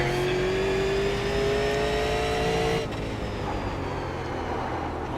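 A super late model race car engine revs high and loud at close range, its pitch climbing steadily before cutting off sharply, then settling into a lower, rougher idle.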